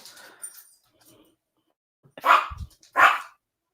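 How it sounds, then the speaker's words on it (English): Pet dogs at home bark as a 16-year-old arrives, two loud close bursts of barking after a few quiet seconds with faint sounds. "my dogs are going to bark at him"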